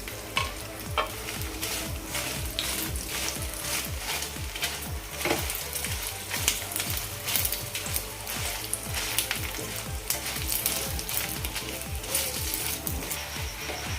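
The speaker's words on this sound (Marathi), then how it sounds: "इथे आता आपण या मिरच्या या तेलामध्ये भाजून घेऊयात" Green chilies sizzle and fry in hot oil in a pan, a steady crackling hiss punctuated by regular stirring scrapes throughout.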